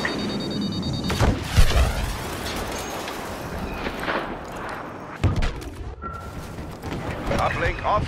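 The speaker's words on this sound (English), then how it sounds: "Homing missile headed your way." Homing missile explosions in the video game Star Wars Battlefront, several booming blasts and crackling gunfire in a busy battle mix, with a sharp impact near the start and another heavy hit midway.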